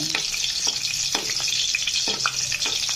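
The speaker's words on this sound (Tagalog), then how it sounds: "so gisa muna tayo ng bawang." Garlic sautés in a hot pan at the start of a chicken and tomato dish, giving a steady close sizzle and crackle with light stirring scrapes throughout.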